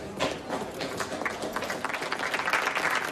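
An audience at a film premiere event claps in a dense, continuous patter of applause that holds steady for a few seconds, fairly distant and without voices.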